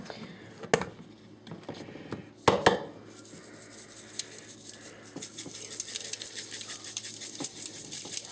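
Seasoning is rubbed by hand onto Southern green beans, making a steady scratchy, rustling friction that follows two sharp knocks early on, close and moderately loud.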